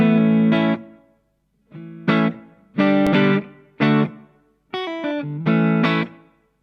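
Electric guitar through a reverb pedal on the room setting plays a series of separate chords and notes with short pauses, each ringing with a roomy reverb tail.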